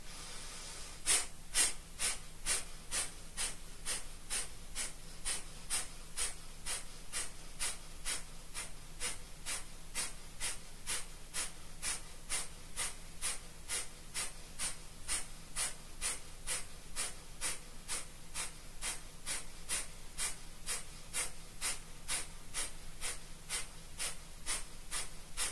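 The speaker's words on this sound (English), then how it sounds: "Keep focusing on those active exhales." Steady, evenly paced forceful exhales from deep yoga breathing repeat roughly every half second for the whole stretch. The breath bursts are close and clear, with no talking over them.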